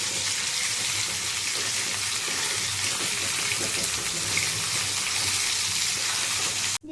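Tap water runs steadily while meat is washed in a home kitchen, a constant broadband gush that holds at an even level for most of the span and then stops abruptly near the end.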